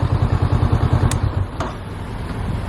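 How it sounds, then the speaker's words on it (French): A motorcycle idles close by with a rhythmic, pulsing thump for about a second and a half, then is switched off. The engine note cuts out, leaving a short click and quiet background. "attendez, je vais éteindre la moto"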